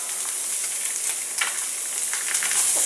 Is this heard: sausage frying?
yes